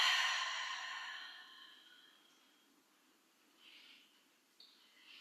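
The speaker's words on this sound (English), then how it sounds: "Deep breaths." A long, deep exhale during yoga relaxation, fading slowly, then a quieter breath follows after a pause.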